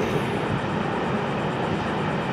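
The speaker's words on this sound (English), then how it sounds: "See that train right here at Caboose Junction." Florida East Coast Railway train 202 rolls past at Caboose Junction, a loud, close, continuous rumble with no let-up and no talk.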